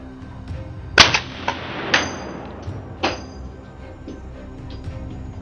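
A gunshot fired during a wild boar hunt in a swamp, heard as one sharp loud crack near the start, followed by a few fainter impulsive knocks and a second softer report, then a quiet tail with no talk.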